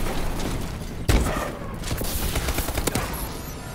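Gunfire from the video game Call of Duty Advanced Warfare crackles in rapid bursts, with one loud booming shot standing out among quicker repeated shots.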